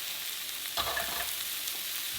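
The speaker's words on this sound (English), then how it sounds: "I'm going to add about, I want to say 2 tablespoons of garlic." Garlic frying in a pan for chicken tikka masala gives a steady, close sizzle that runs throughout, with a brief stirring scrape near the start and no voices.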